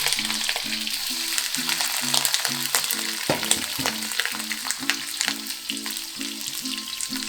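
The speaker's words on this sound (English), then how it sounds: "Okay, now the oil is hot enough. Okay, you slide in the tofu. Face down with the meat." Hakka yong tau foo, tofu stuffed with meat, fries face down in hot oil with a loud, steady, close sizzle that runs throughout under background music.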